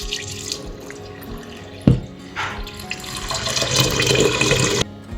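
Tap water runs into a kitchen sink while rice is being rinsed. A sharp splash or knock interrupts the flow, and the stream then builds into a fuller gush that cuts off near the end.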